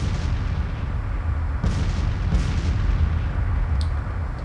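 Civil War artillery fire in a strategy battle game, a dense low rumbling roar with a few sharper booming reports standing out, loud and continuous across the whole stretch without talking.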